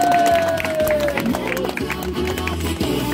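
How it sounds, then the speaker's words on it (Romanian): A birthday party crowd claps and cheers in a steady, dense round of applause, with voices and music mixed in throughout. "Bravo, aplauze!"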